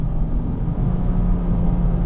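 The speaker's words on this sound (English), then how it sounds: "Quite a bit of intake noise, actually." A steady, droning engine hum and low rumble inside a moving Honda Civic Type R FD2 with a K20 engine, with a whooshing intake tone underneath and no talking.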